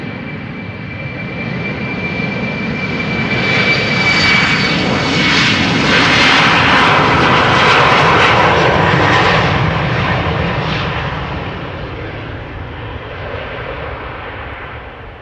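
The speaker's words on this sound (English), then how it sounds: "Embraer 190 outbound to Stavanger" Embraer 190 jet departing Amsterdam Schiphol, a loud roaring engine sound that swells as it passes close, peaks, then slowly fades into the distance.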